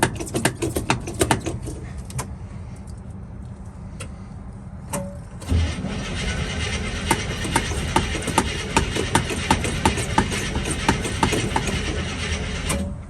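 An International Scout II engine cranks and sputters on ether in repeated sharp firing pops, then churns with a busy mechanical clatter that never settles into a steady run.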